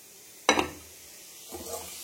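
Spices for tempering hit hot oil in a pan with a sudden loud sizzling burst that quickly fades, then a second, softer crackle follows about a second later.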